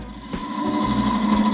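A carbide cutter on a lathe tidies the end of a red resin blank for a shaving brush handle. It gives a short, steady, humming whir with a fine rhythmic chatter, close and fairly loud.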